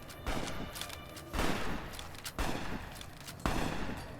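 Bursts of gunfire in the video game Fallout: New Vegas, several loud volleys spaced about a second apart, each a sharp crack trailing into rumbling echo, with no talk.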